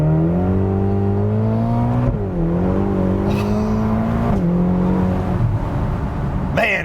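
Ferrari engine revving hard under acceleration, a loud, close, continuous roar with rising pitch that drops at each gear change, straining as the car struggles for traction.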